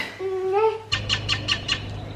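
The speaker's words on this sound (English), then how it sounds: "Those birds are so loud." Several short bird calls repeat in a quick series, fairly loud and close, following a brief higher voice-like call at the start.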